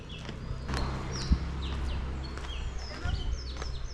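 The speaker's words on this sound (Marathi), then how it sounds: "आणि किती शांत आणि पक्ष्यांचा आवाज यायला फक्त." Faint birds chirp and tweet in short repeated calls near a beach in Malvan on the Konkan coast. They are fairly distant, under a low ambient rumble with a few soft thuds, and no clear voices are heard.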